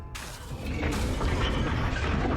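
A deep, sustained boom from a Bombarda spell explosion in the Hogwarts Legacy video game, a dense roaring blast that starts abruptly and holds loud for a couple of seconds.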